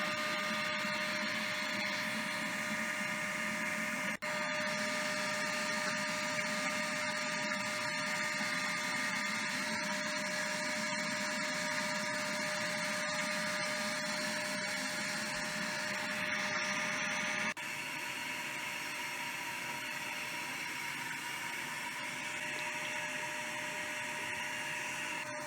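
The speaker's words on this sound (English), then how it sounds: "This is how the system is pulling the fluid from the reservoir." A brake-bleeding system pulls old brake fluid from the reservoir during a brake fluid change, giving a steady mechanical whir and hum with a faint tonal whine, then a slight drop in level partway through.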